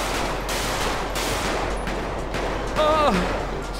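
Gunfire in GTA 5 roleplay during a police chase, dense bursts of game shots running throughout under a busy mix, with a whistling tone near the end.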